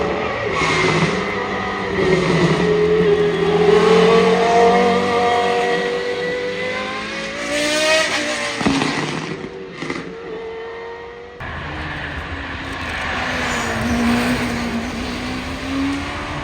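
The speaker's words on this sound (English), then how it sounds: "here we are about to see a whole bunch of exotic cars ripping up the hill" Exotic supercars accelerate hard up a hill climb course, engines revving loudly with rising pitch through gear changes, one car after another roaring past close by with a brief dip between them.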